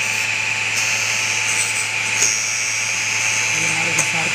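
A drill bit resharpening machine grinds a drill bit, giving a steady, continuous high-pitched whine with a faint constant hum beneath and a brief scrape near the end.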